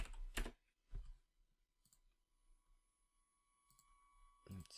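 Several sharp keyboard clicks while typing content, in short bursts separated by gaps, close and moderately loud, with a steady faint electronic hum underneath.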